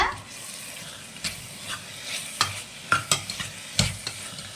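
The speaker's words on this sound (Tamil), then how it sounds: "ஒரு கைப்பிடி அளவு கொத்தமல்லி சேர்த்து நல்லா வதக்கிக்கோங்க" Biryani masala with mint and coriander is stirred and sautéed in a pan, giving a soft steady sizzle with scattered scraping strokes of a spoon that grow sharper and more frequent toward the end.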